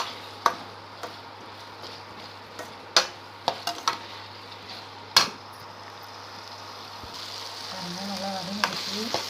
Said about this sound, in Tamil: கொஞ்சம் இஞ்சி பூண்டு பேஸ்ட்டு போட்டு நல்லா வதக்கிடுவோம்.